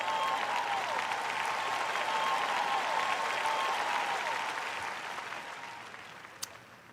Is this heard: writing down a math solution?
no